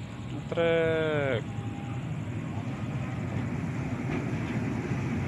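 A night freight train hauling palm oil passes near a station, its horn sounding one long loud blast before the steady rumble of wagons continues, with voices talking nearby.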